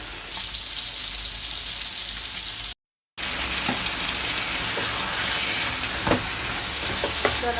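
Fish pieces frying in a pan of oil, loud continuous crackling sizzle close by with a few sharper pops, broken by a short silent gap partway through.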